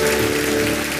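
Church congregation applauding in a steady, dense wash of clapping, loud and close, with no gaps through the short stretch.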